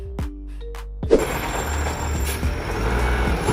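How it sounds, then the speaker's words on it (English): Two reversing beeps sound from a three-loader garbage truck, then a loud clank gives way to a steady engine rumble with mechanical rattling. "This is a 3-loader garbage truck offering rear, side, and manual loading options"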